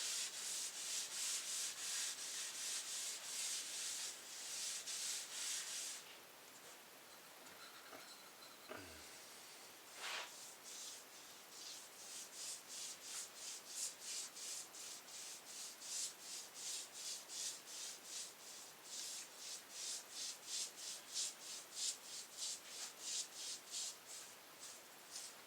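Wood stain is wiped onto a wooden kitchen countertop with a cloth, a close, steady rubbing hiss that breaks briefly, then resumes as quick rhythmic back-and-forth strokes, each swipe a soft airy scrape.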